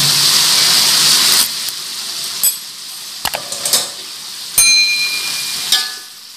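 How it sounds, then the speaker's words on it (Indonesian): Rice vermicelli frying in a pan with vegetables, sizzling loudly at first, then giving way to scattered scraping and clanking strokes of a utensil stirring against the pan. "Aduk semuanya sampai merata."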